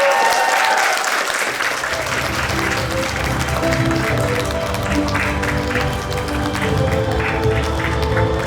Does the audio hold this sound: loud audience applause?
yes